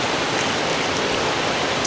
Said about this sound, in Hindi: मीठा पानी की दरिया बह रही है यहाँ पे